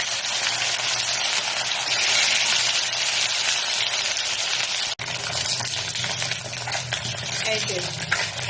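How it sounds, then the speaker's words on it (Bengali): Katla fish frying in hot, smoking mustard oil, a steady broadband sizzle running throughout with a brief break near the middle and faint utensil sounds toward the end. "এবার এর মধ্যে মাছগুলো দিয়ে একটু ভেজে নিচ্ছি ভালো করে"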